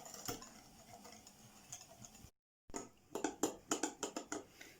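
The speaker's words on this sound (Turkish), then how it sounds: "Kabartma tozumuzu Ve vanilyamızı koyduktan sonra biraz daha çırpacağız." A whisk clicks rhythmically against a bowl while beating brownie batter with yogurt, baking powder and vanilla, first in sparse taps, then after a brief silence in a quicker run of close, regular ticking strokes.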